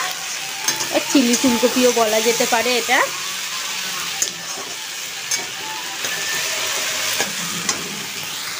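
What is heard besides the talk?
ginger and garlic paste frying in a pan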